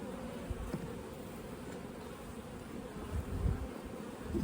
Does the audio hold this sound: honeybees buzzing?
yes